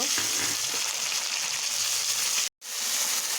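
Ground spice paste fries in a pan for a thin foli fish curry, giving a continuous loud hissing sizzle close by that cuts out for a moment before resuming.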